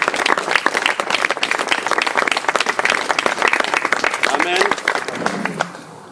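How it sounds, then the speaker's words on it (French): Mourners at a memorial service clap in a dense, continuous, loud round of applause with voices mixed in, tapering off near the end. "Acclame bien ton frère, acclame bien."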